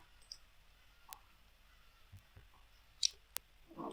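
Several sharp, isolated computer mouse clicks spaced across a quiet room, each brief and dry, with a faint low hum between them and a soft rustle near the end; no one talks.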